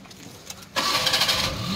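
A Maruti Alto 800 car engine cranks and catches after a quiet moment, then settles into a loud, steady running note.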